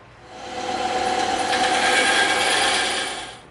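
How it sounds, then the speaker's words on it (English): A bandsaw whines through a wood dowel for a few seconds, swelling in as the blade bites and fading out at the end of the cut. "let's go cut this out on the bandsaw"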